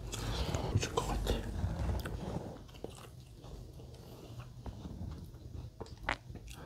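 Close, crunchy bites and chewing of injeolmi bread with almonds, with dense crackly bursts at first settling into softer, intermittent mouth sounds and a faint breathy voice.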